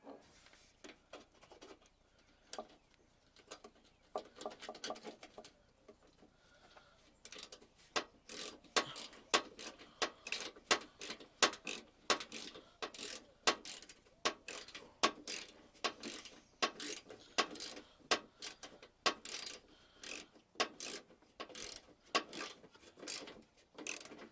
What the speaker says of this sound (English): You want to tighten the little screw.